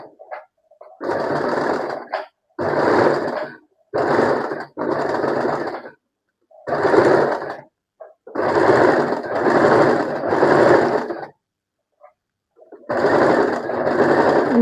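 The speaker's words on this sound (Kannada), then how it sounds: "ಹೀಗೆ ಸ್ಲೋಲಿ ಸ್ಟಿಚ್ ಮಾಡ್ತಾ ಬನ್ನಿ" Sewing machine stitching a hem with a hemming foot, running in repeated bursts of fast mechanical whirring separated by short pauses, close and loud with no talk.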